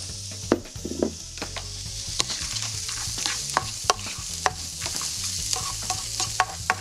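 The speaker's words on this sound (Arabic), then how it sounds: "هزيد شوية زيت زيتون هيك تيشقروا أسرع." Ingredients browning in olive oil in a hot pan, a continuous close sizzle with frequent spoon scrapes and taps as they are stirred, moderately quiet, no voices.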